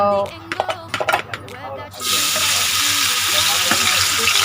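Thai curry paste stir-fried in a pan, beginning with someone talking over metallic clinks, then a sudden loud, steady sizzle as the paste hits the hot pan and keeps frying.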